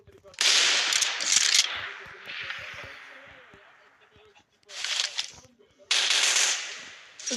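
Rapid automatic gunfire from a detailed weapon in a video game, loud crackling bursts in several strings with brief pauses between them, separated by quieter stretches of game ambience.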